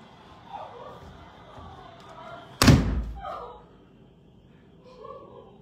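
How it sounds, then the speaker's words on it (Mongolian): Near a burning truck carrying 60 tonnes of gas, a single sharp, heavy blast booms out mid-clip and rumbles away, loud against a murmuring crowd and low background noise. "Амар том дэлбэрэлт боллоо."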